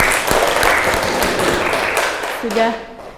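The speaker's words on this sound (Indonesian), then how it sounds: "Tepuk tangan lagi" A classroom of students claps for their classmates' presentations in a biology lesson, a dense patter of hands that tapers off as a voice begins speaking near the end.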